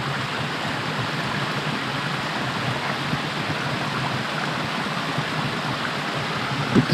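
Stream flowing beside a trail campsite on the Long Trail, a steady, even rush of water that holds for the whole stretch with no voices.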